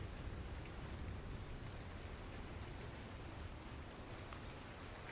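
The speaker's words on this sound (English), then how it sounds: "the rain now starting to fully come down as the night approaches quicker and quicker" Steady rain pouring down on a street at night, a dense, even hiss filling the whole stretch without pause, fairly soft and constant with no voices.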